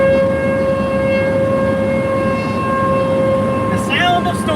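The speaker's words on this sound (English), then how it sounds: "Tornado sirens everywhere." Tornado sirens wail across central Iowa during a storm, a loud, sustained, droning siren tone that holds steady throughout, with brief higher sounds near the end.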